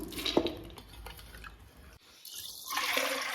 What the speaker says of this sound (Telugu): ఇప్పుడైతే నానబెట్టుకున్న శనగపప్పులన్నీ కుక్కర్లోకి వేసేస్తున్నాను.